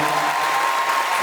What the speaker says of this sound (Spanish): un aplauso para Coco y bien.